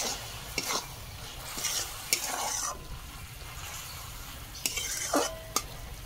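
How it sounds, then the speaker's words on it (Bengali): Bamboo shoot curry stirred in a covered pan over a soft, steady sizzle, with a few sharp clinks and scrapes of a utensil against the metal at irregular intervals; quiet and close, with no talking. "দেখুন ঢাকা দিয়ে এই নাড়ছি আর রান্না করছি"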